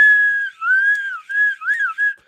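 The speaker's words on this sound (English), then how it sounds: "This slide whistle sucks because when you put it all the way down, it makes the high pitch noise" A slide whistle plays a high, gliding tone in several short blown bursts, sliding up and down in pitch, loud and close with no talking.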